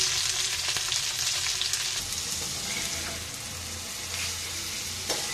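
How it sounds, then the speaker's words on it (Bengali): Tilapia fish fries in hot oil in a pan, a steady bright sizzle with crackling spatters, close and continuous, with no talking. "এখন তেলাপিয়া মাছ বসায় দিয়েছি আমি ভাজার জন্য"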